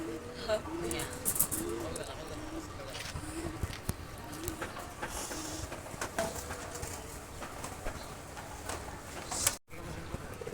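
Green pigeons cooing softly in a loft, low repeated coos scattered among chirps and rustling, with people talking nearby throughout.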